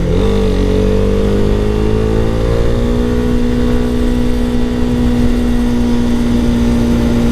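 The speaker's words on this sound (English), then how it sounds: "I love getting out and about on my motorcycle" A motorcycle rides along a road, its engine humming steadily at a held pitch after a brief shift early on, loud and close with wind noise throughout.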